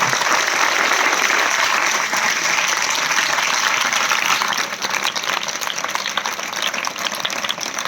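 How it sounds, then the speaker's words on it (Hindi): Loud, sustained applause from a crowd at a government school results ceremony honouring students, a dense steady wash of clapping that eases slightly midway and continues to the end. "एक बार उनके लिए जोरदार तालियां।"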